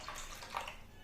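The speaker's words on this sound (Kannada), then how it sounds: "ಇನ್ನೊಂದು ಸ್ವಲ್ಪ ನೀರು ಆ್ಯಡ್ ಮಾಡ್ಕೊತಾ ಇದ್ದೀನಿ." Water trickles and splashes briefly into a bowl of spinach neer dosa batter, a soft steady pour lasting about a second with no voices.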